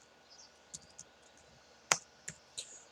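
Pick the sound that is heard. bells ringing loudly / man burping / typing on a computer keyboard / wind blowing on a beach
typing on a computer keyboard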